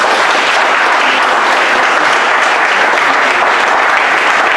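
Loud, steady applause and cheering from a church congregation, thick continuous clapping that fills the space without a break.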